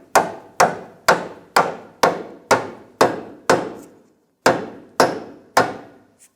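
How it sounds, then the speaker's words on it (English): Rubber mallet tapping the steering knuckle on a 2007-2017 Jeep Compass during a passenger-side control arm replacement: eleven loud, close, evenly spaced thuds, one brief pause before the last three, with no talk. "I'm going to just use a rubber mallet,"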